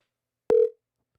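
A single short electronic telephone tone during a live show's phone call, a clean steady beep of about a quarter second, standing alone in silence.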